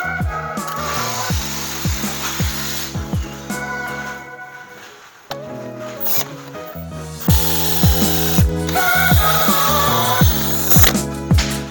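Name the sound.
power drill drilling a hole for a lag bolt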